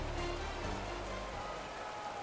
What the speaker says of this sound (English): yes, the rain is falling now, and it is supposed to continue to fall throughout this game